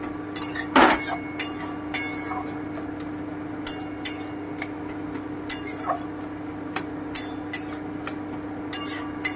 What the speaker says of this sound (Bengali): আমি আবারও একটু ঢাকাটা তুলে নিচ্ছি